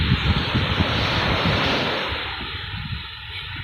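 Strong wind buffets the microphone outdoors by the sea during stormy weather, a dense, loud roar mixed with surf and gusty low-frequency thumps, no voices.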